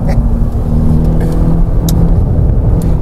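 A VW GTI compact car's engine accelerates hard on a racetrack, a steady loud, close engine drone with low rumble throughout, no talk over it.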